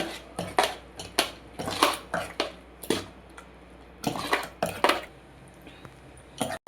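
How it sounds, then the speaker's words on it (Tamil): Spoon scraping and knocking around a pot of porridge made with rice, fenugreek, garlic and coconut milk, in a dozen or so close, rhythmic stirring strokes with clinks against the metal. "கலக்கு தேங்காயை பாலை ஊற்றி நல்லா கரையாக கிண்டணும்"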